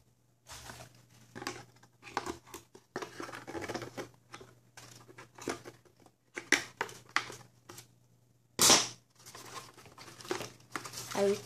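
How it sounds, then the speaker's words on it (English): Cardboard packaging ripped off a Jolt target holder, crinkling and tearing in scattered close bursts with one sharp loud rip, while a person talks over it. "I think I'll just rip off the cardboard."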